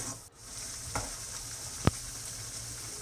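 Spices being sautéed and stirred in a pan for a Kerala nadan curry, a steady low sizzle throughout with a couple of brief utensil scrapes, one sharp click near the end, no voices.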